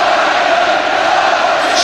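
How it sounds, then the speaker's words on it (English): A football stadium crowd at an England vs Austria World Cup 2006 qualifier keeps up a steady, loud roar of massed chanting that stays even across the whole stretch. "Come on, England, the crowd is shouting, almost in desperation."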